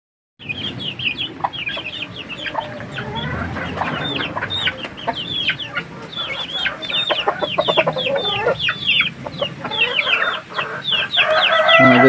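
Native chickens crossbred with Rhode Island stock cluck steadily and densely as a hungry flock, with overlapping chirps and calls building louder toward the end, close by and without talk.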